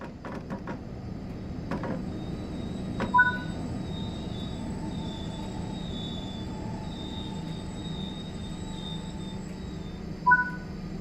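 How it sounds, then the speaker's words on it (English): A BR423 electric train in Train Sim World 5 brakes to a stop, with a low steady rolling rumble, thin high brake squeals and a few short electronic cab beeps. "Bring the train to a stop now by applying the train brake."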